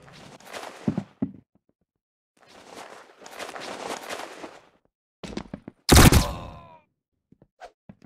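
A single loud gunshot rings out in a shooter video game, one sharp blast with a ringing tail, set among scattered in-game movement and rustling sounds.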